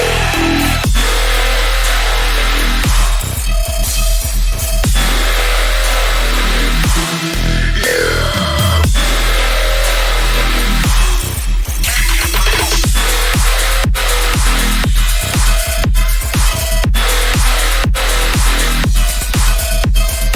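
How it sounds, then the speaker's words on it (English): A dubstep drop hits loud and dense, with layered, growling, formant-filtered basses pulsing in rhythmic stabs over punchy drums and one brief gap near the middle. "Altogether, the drop sounds like this."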